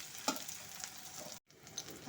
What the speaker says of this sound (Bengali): রসুনের সাথে বেগুনটাকেও একটু ভাজা ভাজা করে নেব।